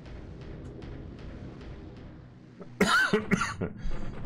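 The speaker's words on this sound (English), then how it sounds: "Still haven't got rid of the cough." A few sharp coughs burst out close to the microphone after a stretch of quiet background hum, clustered in a rough sequence of two or three harsh bursts.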